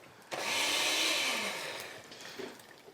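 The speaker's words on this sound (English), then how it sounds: "I like this blender." A kitchen blender starts abruptly and runs with a loud, hissing whir that slowly fades and drops in pitch toward the end, with no talking over it.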